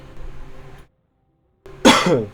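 A man with a sore throat gives a sharp, loud cough near the microphone after a brief silence, preceded by low background sound.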